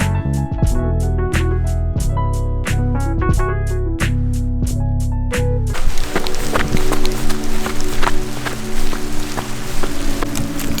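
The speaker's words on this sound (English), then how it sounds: "So it actually just started raining right as I began to shoot pretty much." Rain begins outdoors, a dense, even patter that takes over the second half after a stretch of repeated tonal notes ends abruptly.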